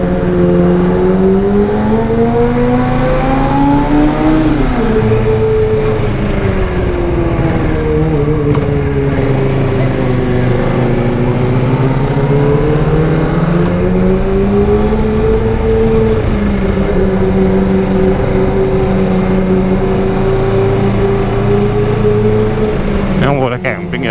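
Car engine straining up the mountain road to Gunung Telomoyo in first gear, a loud continuous drone whose pitch rises and falls with the throttle throughout, close to the microphone.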